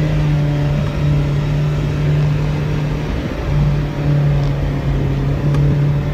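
A car engine revving hard while reversing at speed, a loud, steady droning hum that holds at one pitch with slight swells, close and without talk.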